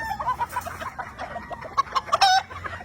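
On a large gamefowl farm in the Philippines, nearby hens cluck in short, repeated notes while a rooster's crow rises briefly near the end, over faint background noise with no talking.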